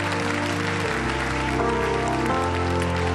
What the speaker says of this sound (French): Est-ce qu'on peut donner une bonne main d'applaudissement au Seigneur?